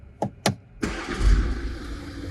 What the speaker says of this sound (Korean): 시동을 한번 걸어서 보여드릴게요